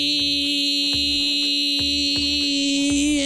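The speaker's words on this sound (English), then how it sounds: "Beep." Electronic beeps repeat in a steady rhythm, roughly four per second-and-a-bit, over a loud continuous high-pitched alarm tone, with no speech.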